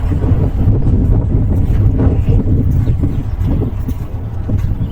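A vehicle travelling fast gives a continuous low roar mixed with buffeting wind noise, loud and steady throughout, with no voices.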